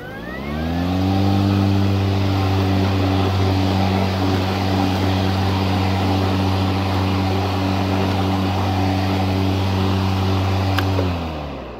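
A lawn mower, either an EGO 56-volt Select Cut XP battery model or a Honda HRX217 gas model, runs steadily while cutting grass, a loud, even engine drone that holds for about ten seconds before tapering at the end.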